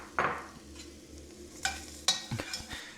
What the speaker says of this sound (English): we're gonna add the mushrooms now, and we're gonna let them saute for around 2-3 minutes